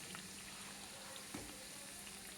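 Pesara kachori fry in hot oil, giving a soft, continuous bubbling sizzle at low level with a faint crackle or two, and no one speaking.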